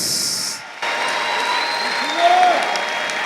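A church congregation bursts into dense, sustained clapping and cheering with a high ululation rising through the noise, loud and continuous after a brief hiss at the start.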